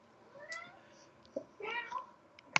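A housecat howling for attention, with drawn-out tonal meows and a caterwaul rising and falling, fairly faint and indoors, ending with a sharp click.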